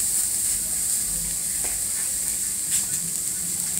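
Beef and onions sizzle on a very hot griddle, a steady bright hiss holding evenly throughout with a few faint crackles and no talk.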